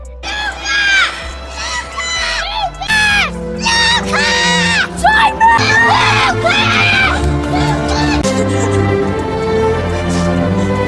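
A desperate man screams loudly in a dramatic film scene, with repeated anguished cries over a busy background of crowd voices and music.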